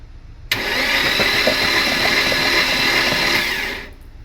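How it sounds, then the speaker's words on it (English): Engine with its spark plugs removed, cranked to blow dirt out of the plug holes: a loud, steady starter whir kicks in abruptly, runs for about three seconds, then winds down and stops. "now we're gonna crank it so to get all the dirt out to prevent anything going inside the engine"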